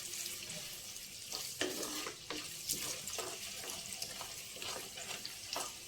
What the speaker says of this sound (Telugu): ఉల్లిపాయ కొంచెం వేగిన తర్వాత మనం ఈ కీరా దోసకాయ వేసేద్దాం.